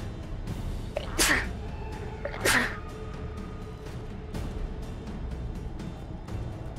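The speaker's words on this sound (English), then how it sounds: "I'm gonna sneeze." Two sharp sneezes about a second apart, close and fairly loud over a quiet background hum.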